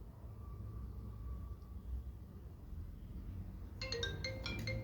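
A Samsung phone rings from an incoming VoLTE call, a short bright electronic ringtone that starts in the last second over a low, steady room hum.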